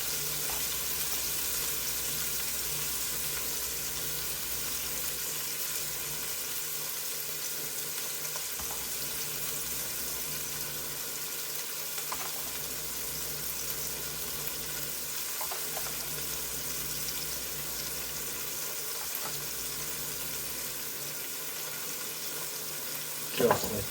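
Bacon strips, broken in half, sizzle in a pan for a barbecue bacon burger, a steady dense crackle with a soft hiss throughout and a few small pops, with no talk.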